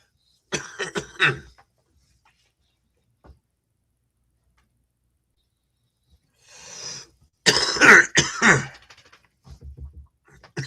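A few bursts of coughing separated by silence, close and harsh, with a single faint tick between them.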